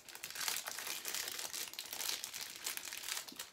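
Plastic packaging around green plant-tie tape rolls is crinkled and pulled open up close, a continuous papery rustle and crackle with no talking.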